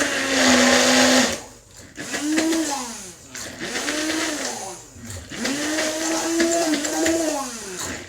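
A kitchen blender grinds a garlic clove and bread, its loud motor whine surging and dipping in about four pulses as the load shifts, with brief pauses between bursts.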